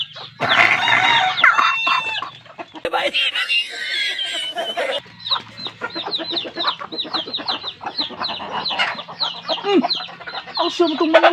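Chickens cluck and squawk loudly and close by, with a rooster-like crow partway through and some overlapping human sounds.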